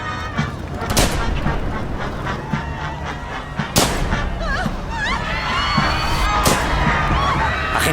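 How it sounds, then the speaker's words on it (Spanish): Gunshots in a dramatized scene of the Kennedy assassination during a motorcade, several sharp loud bangs spaced a few seconds apart over a busy, noisy crowd-like background. "Agente Delta, se han oído unos disparos."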